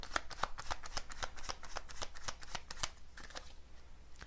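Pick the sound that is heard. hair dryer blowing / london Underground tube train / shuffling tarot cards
shuffling tarot cards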